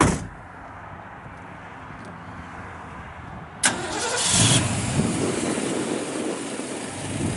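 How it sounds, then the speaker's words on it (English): A 1964 Ford Falcon Sprint V8 with a Hurst shifter starts up: quiet cranking, then a sharp catch as the engine fires and settles into a loud, rumbling idle. "Fires right up."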